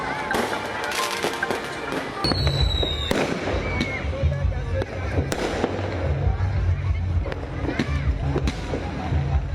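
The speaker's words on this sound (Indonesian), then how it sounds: "masyarakat antusias merayakan pergantian tahun dengan pesta kembang api" A New Year's Eve fireworks display in Indonesia bursts in repeated sharp bangs, booming thuds and crackles, loud and close, over a busy background of crowd noise.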